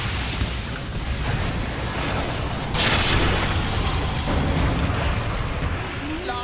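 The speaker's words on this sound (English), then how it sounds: "Radiant's top tower has been destroyed." A tower crumbling under attack in Dota 2, a loud booming crash over a dense, continuous bed of battle noise, with a brighter burst about midway through.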